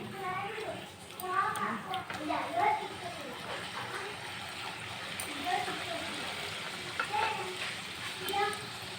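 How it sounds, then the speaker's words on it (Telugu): Kharam gavvalu, small shell-shaped spicy Telugu snacks, deep-frying in hot oil give a steady bubbling sizzle through the whole stretch, with someone talking over it and children's voices in the background. "ఇలా కొన్ని కొన్ని అయితే చేసుకొని ఇలా ఫ్రై చేసుకోవడమే"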